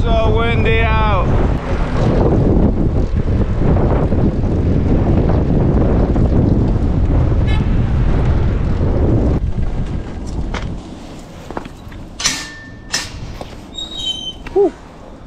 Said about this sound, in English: So windy out.